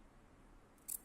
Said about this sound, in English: I'm gonna snip the middle.